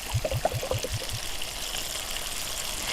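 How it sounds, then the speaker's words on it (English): Liquid vermouth poured into a pan while cooking tomatoes with chilli flakes, a short burst of splashing followed by a soft trickle and gentle background hiss. "So time to add some vermouth."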